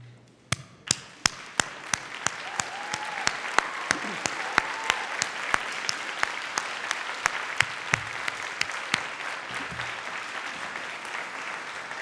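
Graduates at a university graduation ceremony in a large hall start with a few sharp, separate claps that quickly swell into sustained, reverberant applause, with some loud nearby claps standing out and faint voices underneath.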